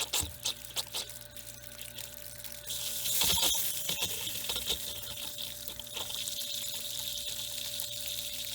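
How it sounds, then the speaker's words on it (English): A water system pump runs while pushing air out of a water line, a steady close rushing and gurgling of water and air that strengthens partway through and then holds continuously. "Pumping the air out."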